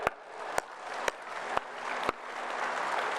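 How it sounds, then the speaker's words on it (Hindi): Audience applause at a yoga and Ayurveda session, a steady wash of many hands clapping, broken by five sharp louder claps at regular half-second intervals. "जोरदार ताली बजाओ।"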